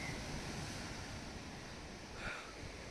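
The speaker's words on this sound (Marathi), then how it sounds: "अशा लाटा जोर जोरात उडून येत आहेत." Sea waves surging onto the shore at Ratnagiri or Ganpatipule on the Konkan coast, a steady loud roar of surf with wind noise and a slightly stronger wash near the end.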